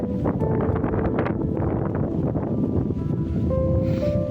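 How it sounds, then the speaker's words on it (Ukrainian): Strong wind buffets the microphone in a constant low roar, loud and unbroken throughout. "розгулявся сильний вітер."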